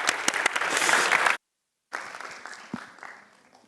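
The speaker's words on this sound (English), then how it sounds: "A big applause, please." Audience applause following a talk on science, technology and innovation: a loud, dense burst of clapping, a brief silent gap, then the clapping resumes and slowly fades.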